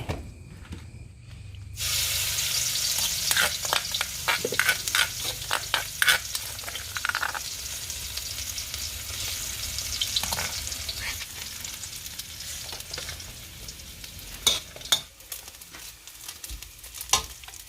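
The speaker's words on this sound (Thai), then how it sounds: "ผัดผักบุ้งหลาย" Water spinach is stir-fried in a wok with a steady sizzle and repeated scraping strokes of the spatula, close and fairly loud, broken by brief quieter pauses between stirs.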